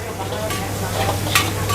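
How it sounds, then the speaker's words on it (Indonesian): Fried shrimp are being stirred with sauce in a hot pan, giving a steady, loud, close sizzle with brief scraping of the utensil against the pan. "Jadi tinggal kita aduk aja dengan sausnya."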